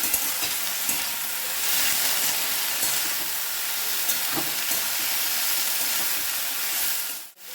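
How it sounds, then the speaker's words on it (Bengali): A small chopped tomato hits a pan of frying bean flowers seasoned with turmeric, raising a loud, steady close sizzle with stirring that runs throughout and cuts off abruptly at the end. "একটা টমেটো কুচি করে রেখেছি, ছোট টমেটো, ওটাও দিয়ে দিলাম।"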